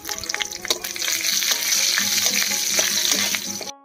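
Green chillies, chopped ginger, dried red chillies and bay leaves fry in hot oil with cumin, a loud, close, steady sizzle broken by a few clinks and scrapes of a stirring spoon.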